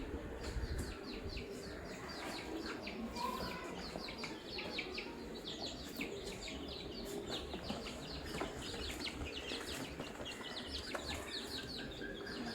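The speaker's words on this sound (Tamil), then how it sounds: "சண்டை கோழி." A fighting rooster clucks and calls softly indoors, faint, scattered and repeated against a quiet background, with a few bird chirps.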